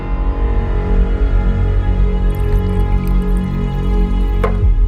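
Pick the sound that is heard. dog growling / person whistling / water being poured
water being poured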